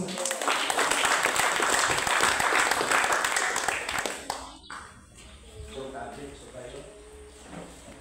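A church congregation claps together during a sermon, a loud dense burst of applause that fades after about four seconds into quieter room noise and scattered voices.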